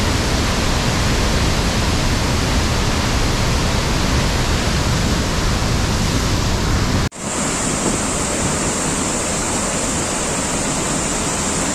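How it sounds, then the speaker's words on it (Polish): A small waterfall on the road to Nha Trang, a loud, steady rushing roar of falling water that cuts briefly partway through, then carries on slightly thinner, with no talk. "Taki tam wodospadzik."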